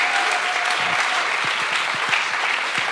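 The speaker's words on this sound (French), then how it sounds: "Just give a loud applause for Jesus before you're seated" A church congregation at a miracles and healing evening breaks into loud, sustained applause, a dense mass of clapping with a few shouts and low voices rising through it.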